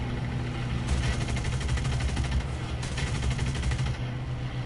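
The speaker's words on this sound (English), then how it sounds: ".50 cals." .50 cal machine guns on an aircraft in War Thunder rattle off in two rapid, loud bursts over a constant engine drone, with no voices.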